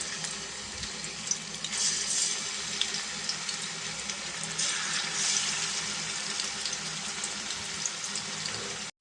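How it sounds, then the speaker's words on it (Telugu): Masala-marinated fish pieces deep frying in oil make a steady, close, hissing crackle that runs without a break and with no voices. "మసాలా పెట్టిన చేప ముక్కల్ని డీప్ ఫ్రై చేసుకుందామండి"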